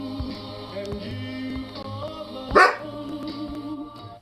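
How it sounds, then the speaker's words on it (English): A dog barks once, sharp and close, partway through, over steady music with no talking. "Why are you barking?"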